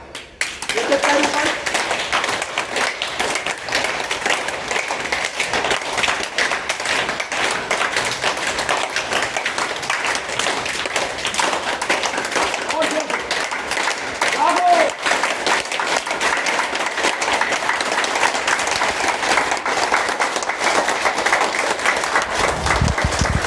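Yoga class participants at an International Yoga Day celebration clap steadily for over twenty seconds, a dense, even patter that stays constant at moderate level, with some talk mixed in.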